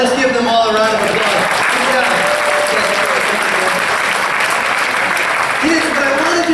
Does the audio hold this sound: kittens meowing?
no